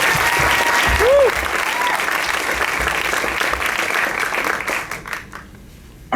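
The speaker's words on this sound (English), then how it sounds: "Round of applause for flat-chested." An audience at a film discussion panel claps in a steady round of applause that fills the room, fading toward the end with a brief vocal sound early on.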